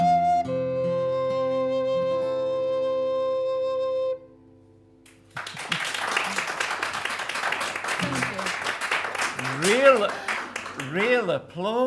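Audience applause at the Moira Furnace Folk Festival, a dense crowd clapping that bursts in after a held musical chord fades, steady and loud for several seconds with a voice speaking over it near the end.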